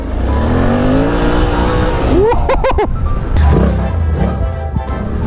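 Motorcycle engine roaring steadily as the rider drifts sideways on a Suzuki track ride, loud and close throughout, with a sharp rising rev and a few quick gear changes near the middle and no talking.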